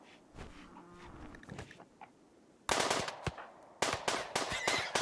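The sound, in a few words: gunfire in a video game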